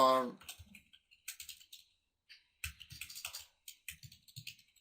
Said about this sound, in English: if you type in a title